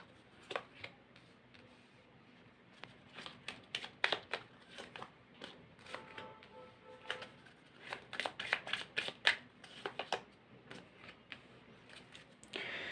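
Tarot cards shuffled close by at a reading, giving a run of crisp, irregular riffling and flicking bursts with brief pauses between them and no talk.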